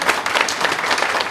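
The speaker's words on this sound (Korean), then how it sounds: "박수 한번 치겠습니다." Steady applause from an audience at a Yongin mayoral candidates' policy presentation, a dense wash of many hands clapping throughout without a break.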